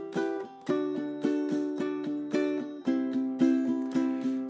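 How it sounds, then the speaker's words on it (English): Ukulele strummed in a steady down-and-up pattern, bright chords repeating at an even pulse for several seconds, close and alone. "So I could just strum down and up the whole time if I wanted to."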